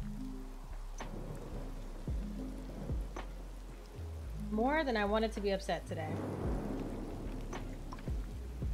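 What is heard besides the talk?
rain and thunder in video game Disney Dreamlight Valley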